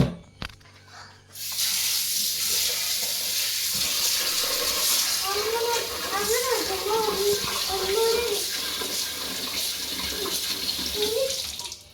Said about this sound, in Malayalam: ഇനി നേരെ കഴുകാൻ നമുക്ക് കഴുകിയെടുക്കാം.